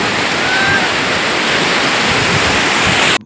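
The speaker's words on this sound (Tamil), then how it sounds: "அலைகள்லாம் வந்து நம்ம காலை தொட்டுட்டு போகிறத பார்த்தா ரொம்ப அழகாக அற்புதமாக இருக்குது பாருங்கள்" Sea waves wash onto the sandy beach at Mangalore, Karnataka, in a loud, continuous rushing surf close by that cuts off abruptly at the end.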